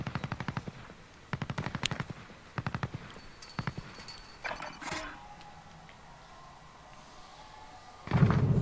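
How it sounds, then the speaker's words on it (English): Assault rifle fire in a first-person shooter video game, several sharp bursts of rapid shots at steady intervals, followed by scattered impacts and a quieter stretch before a louder noise at the end. "What's he killing me with that assault rifle?"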